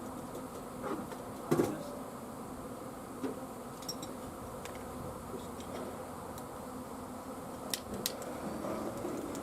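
A honey bee swarm gathered on a tree gives off a faint, steady buzzing drone outdoors. A few brief clicks and knocks are scattered through it.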